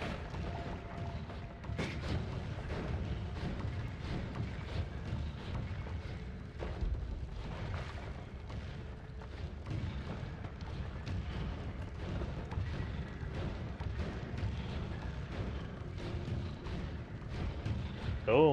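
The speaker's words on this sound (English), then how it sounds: "So many fireworks." Fireworks burst continuously in the video game Noita, a dense, rumbling barrage of low booms and crackles that overlap steadily without a break, loud and sustained throughout.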